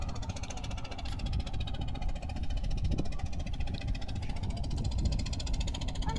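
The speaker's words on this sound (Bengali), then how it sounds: "ট্রলার দিয়ে ব্যাপক পরিমাণ মানুষ ট্রলারে যাতায়াত করে" A trawler boat's engine runs continuously nearby during traditional fishing on a river char, a steady low throbbing knock with a faint mechanical rattle and no pauses.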